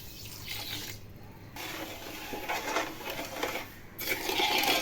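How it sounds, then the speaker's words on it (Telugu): Water is poured into a pot for cooking a sweet rice dish of rice and sugar, splashing in several bursts separated by short pauses, close by and fairly soft. "ఇది నీళ్ళు వేసుకోవచ్చండి"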